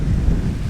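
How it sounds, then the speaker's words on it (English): Wind on the Kenyan ocean coast makes a brief, loud, low rumbling gust that buffets the microphone with no voices. "Wow, it's windy, but the ocean has something so much."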